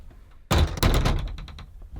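Van doors shut with a loud, close slam, followed by a second thud and a brief rattling tail, with no voices.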